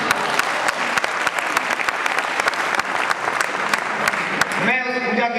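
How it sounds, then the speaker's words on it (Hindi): Audience applause at the 2009 Etawah festival, a poetry event, fills the whole stretch with dense, steady clapping, loud and continuous, before it thins out near the end as a voice begins speaking over it. "तालियों का हुजूम उठे"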